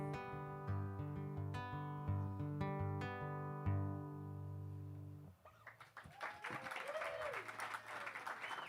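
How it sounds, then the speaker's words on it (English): A sustained electronic keyboard chord fades out at a live concert, then a large audience breaks into loud, continuous clapping and cheering. "Once again, excellent job with that applause break, by the way."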